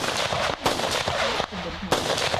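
Guns fired by tourists at a shooting range, with a choice of American or Viet Cong weapons, giving sharp loud reports in quick succession, some overlapping, with voices in the background.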